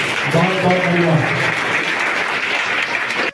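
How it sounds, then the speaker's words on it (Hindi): Dense applause from an audience fills the hall at a school prize distribution ceremony, steady and loud throughout, with a voice briefly heard under the clapping at the start. "सभी लोग हाथ ऊपर करके ताली बजाओ"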